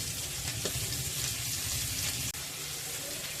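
Steady, close sizzling and crackling of pomfret frying over low heat in a hot pan, continuous throughout with no voices.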